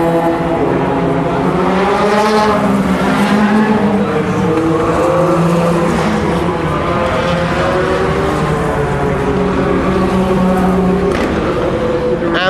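A stream of LMP2 prototype race cars keeps passing on track, engines screaming loudly and steadily, with pitch rising and falling as each car goes by and another follows close behind.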